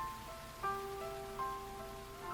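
Soft steady rain patters and hisses in the background of the visual novel Rain Marginal, faint and continuous, with gentle chime-like tones playing over it.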